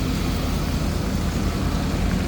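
A used truck with an oil leak idles as it warms up, a steady low engine rumble with a broad hiss, constant and moderately quiet throughout.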